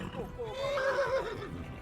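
A horse whinnies in a rising and falling neigh lasting over a second, with speech-like sound around it, in the video game Kingdom Come: Deliverance.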